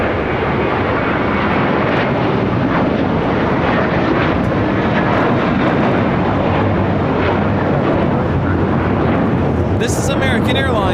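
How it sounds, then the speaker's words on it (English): A loud, continuous jet roar from an American Airlines Airbus A321 with sharklets taking off at LAX fills the whole span, a dense, powerful rumble with a brief higher-pitched burst near the end. "This is American Airlines Flight 4 taking off to JFK on an A321 Sharklets"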